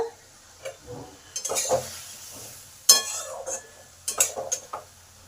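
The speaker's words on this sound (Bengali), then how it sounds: "ছয় মিনিট পর ঢাকাটা খুলে দেখি কি অবস্থা" A pan lid lifted off a pot of beans boiled for six minutes on a gas stove, giving a few scattered metallic clinks and knocks of cookware in a quiet kitchen, with no talk.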